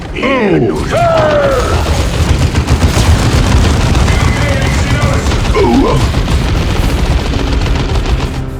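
Rapid gunfire and explosions from the Orks-versus-Space-Marines strategy game Dawn of War 2 crackle loud and dense throughout, with in-game voices and sweeping effect tones layered over the barrage.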